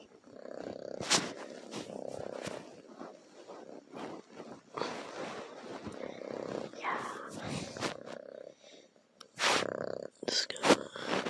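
A cat purrs up close in a low, rhythmic rumble that rises and falls with each breath, broken by handling rustles and a few brief voices.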